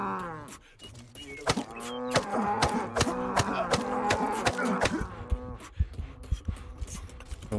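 Cattle in the video game Rustler moo repeatedly in a loud, harmonic-rich chorus of overlapping lowing calls, several animals close by, with sharp clicks scattered throughout.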